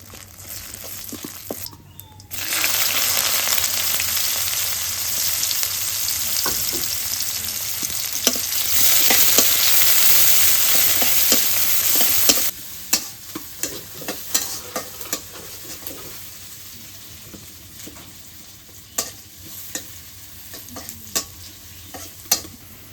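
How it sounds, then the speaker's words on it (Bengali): Cumin seeds and two bay leaves hit hot oil in a village kitchen, setting off a loud, steady sizzle. It then gives way to scattered clinks and scrapes of stirring as the frying settles down. "জিরা দিয়ে দিই, তেল দিয়ে দিছি তো, জিরে তেলানি দিই। দুটো তেজপাতা,"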